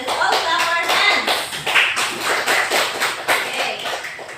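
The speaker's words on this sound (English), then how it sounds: "Let's all clap our hands." A class of students claps their hands together, a dense run of many overlapping claps that carries on steadily for several seconds, close and loud in a classroom.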